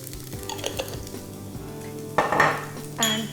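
Meat with cinnamon sizzling in a pan while a utensil stirs and scrapes it, giving soft metallic clinks, followed by two louder bursts of frying hiss near the end.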